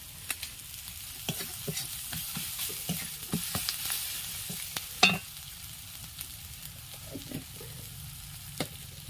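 Cabbage dish with spices being stirred and fried in a pan, a soft sizzle under repeated scraping and tapping of a spatula at irregular intervals, with one louder knock midway.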